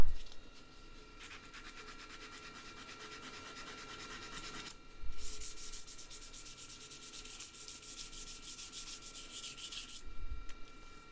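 Close, steady sanding rasps across the rough edge of a braided handle knife in two long bursts of back-and-forth rubbing, with a short pause between them and a couple of soft knocks, without any talk.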